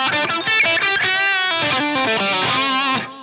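A quick run of bright electric guitar notes with post-amp compression applied to the whole signal, a light echo and roomy reverb tail, played steadily over a few seconds.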